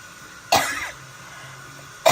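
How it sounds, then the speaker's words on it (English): Two sharp coughs, one at the start and one near the end, close and loud, separated by a stretch of quiet room noise. "I'm so sorry for the coughing"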